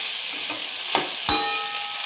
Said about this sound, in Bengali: পাস্তাটা দিয়ে দিলাম